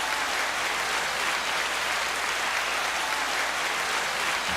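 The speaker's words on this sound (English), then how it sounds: "There's the applause." A canned applause sound effect on a podcast: a uniform wash of crowd clapping, steady and fairly loud, with no voices over it.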